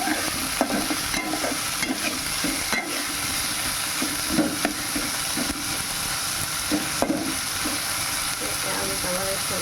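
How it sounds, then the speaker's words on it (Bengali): Onions fry in hot oil with a steady loud sizzle while a spatula stirs them, scraping the pan in repeated strokes, all close and continuous. "এরকম তেলের মধ্যে আমি পেঁয়াজটা দিয়ে দিয়েছি।"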